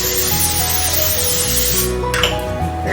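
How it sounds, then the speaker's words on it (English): A steady hiss of Pam cooking spray from an aerosol can onto a muffin pan, continuous and close, over quiet background music. "I'm going to spray mine with Pam."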